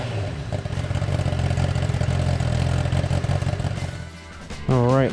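A 2023 Honda CBR 1000RR sport bike with a mid-pipe exhaust fires up and settles into a steady, loud engine drone that holds throughout, with a sharper rev swell near the end.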